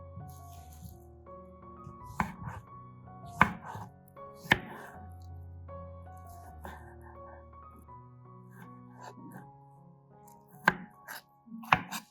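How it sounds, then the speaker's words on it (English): Tomatoes are chopped with a knife on a board, a scattered series of sharp, close blade taps spread through the stretch over a soft steady background hum. "Chop the tomatoes."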